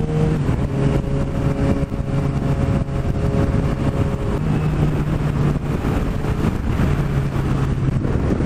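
A Suzuki GSX-R750 motorcycle running without an exhaust revs on a coastal road, its engine pitch rising and falling in repeated pulls against steady wind and road rumble, heard from close by.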